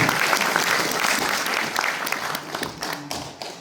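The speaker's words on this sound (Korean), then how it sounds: "뜨거운 격려 박수 부탁드립니다." Applause from an audience in a large auditorium at a national assembly library event fills the space as dense, sustained clapping that stays loud, then thins slightly toward the end.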